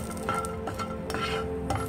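Raisins and sesame seeds being stirred through makhana in a pan, giving soft continuous scraping and light clinks of the spoon against the pan, close and alone.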